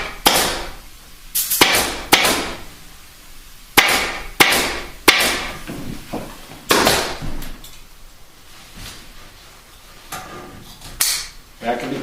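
Sharp hammer strikes drive upholstery tacks into the fabric of a wing chair, landing in irregular single blows and quick pairs spread across the stretch, with a speaking voice between strikes.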